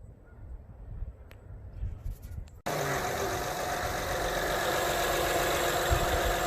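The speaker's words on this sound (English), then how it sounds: "let's give it a test start and see how it sounds." A 2012 Honda Crosstour V6, just fitted with new spark plugs, cranks and catches abruptly after a quiet stretch, then settles into a loud, steady, even idle that continues to the end.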